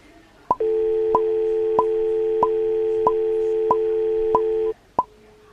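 Phone call signal on a handset: a steady electronic tone held for about four seconds, broken by a regular pulse roughly every 0.6 seconds, then a brief final beep, close and clear in a quiet room.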